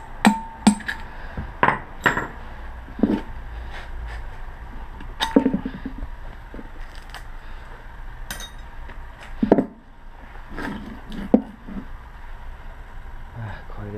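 A hammer strikes a big electric motor being broken apart to salvage copper, giving sharp metallic bangs at irregular intervals, with quiet talk in between.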